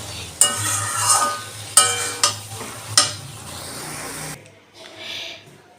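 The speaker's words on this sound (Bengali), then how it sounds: "দিয়ে এবার এটাকে একটু আবার ভালো করে নেড়ে নিতে হবে যাতে চালের গুঁড়োটা ভালো করে সাথে সাথে মিশে যায়" Spinach and small lentil dumplings stirred in a frying pan with rice flour, giving several sharp spatula scrapes and clanks over a steady frying hiss, then a quieter stretch near the end.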